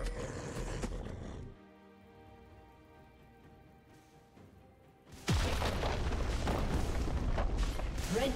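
In League of Legends, a turret is destroyed with a loud, booming blast that hits suddenly after a calm, tonal lull and keeps roaring as a sustained rumble of crumbling debris to the end.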